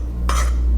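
Salt being stirred into freshly ground wheat flour in a bowl, a single brief scraping swish of about a quarter second, close and clear over a low steady hum.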